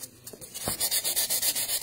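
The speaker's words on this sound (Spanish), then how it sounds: "Y también le voy a lijar aquí este filito de aquí." Sandpaper rubs over a handmade snowman candy holder craft in quick, even back-and-forth strokes, close and steady with no speech.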